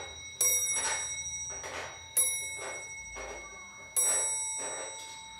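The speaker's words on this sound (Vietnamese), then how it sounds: "Thử lại chuông nữa này." A Dutch-made, pear-shaped hour-striking clock sounds its chime: three bright bell strikes, each ringing out and slowly decaying before the next, close and clear with no talking.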